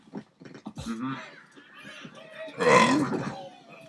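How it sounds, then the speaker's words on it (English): Cartoonish burps in an Angry Birds episode sound in short throaty bursts, with a louder, longer belch near the end and light vocal noises in between. "Burp and slurp."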